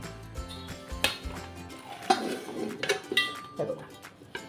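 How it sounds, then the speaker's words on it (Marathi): Clattering of a metal plate and utensils in a home kitchen as steamed semolina rawali is turned out onto the plate, with several sharp clinks and knocks over soft background clatter. "आत्ता मी एक प्लेट घेतली आहे आणि ह्या प्लेटवर आपण ही पलटी करून घेऊया"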